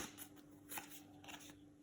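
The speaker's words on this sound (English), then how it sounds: "We're going to shuffle the monster attack deck now." A deck of game cards for a monster-fighting board game being shuffled by hand, soft riffling and sliding bursts repeating several times, quiet and close, with no voices.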